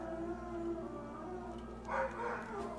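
Several neighbor's dogs howl from a distance, drawn-out wavering cries rising into a louder burst midway over a constant low background hum.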